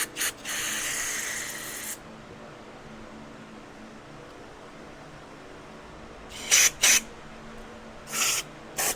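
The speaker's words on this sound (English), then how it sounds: "Now I like to squirt down in all these circuits that are in here." Cleaner sprayed from an aerosol can into the carburetor circuits of a Polaris Sportsman ATV: a sharp hiss of about two seconds, then several short bursts after a quiet pause, close and alone.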